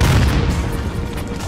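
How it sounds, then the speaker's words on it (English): Grenade explosion in the shooter game Call of Duty: Modern Warfare (2019), a loud booming blast with a rumbling low-end tail filling the whole moment, no talk over it. "Throwing a grenade."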